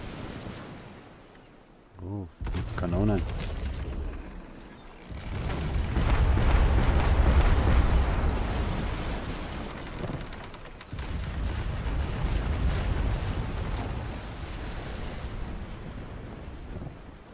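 Ship cannon fire booms loudly, then a deep rumbling roar swells and fades, a naval battle scene in the video game World of Sea Battle.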